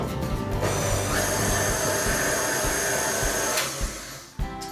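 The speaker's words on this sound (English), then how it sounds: "We'll add our olives, and now mix that for a minute or 2 minutes." A KitchenAid stand mixer with a dough hook whirs steadily while kneading olives into bread dough, a loud continuous motor hum with rhythmic thumping underneath, easing off just before the end.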